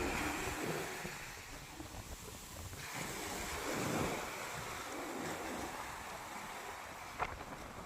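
Big sea waves roll and crash near a shoreline during net fishing, a broad roaring surf with swelling surges, heavy wind buffeting the microphone throughout.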